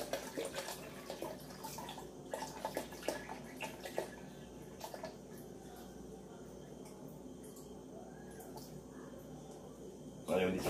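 One litre of water poured into a container, a soft continuous splashing stream at moderate distance, with scattered knocks and handling sounds and a louder burst at the very end.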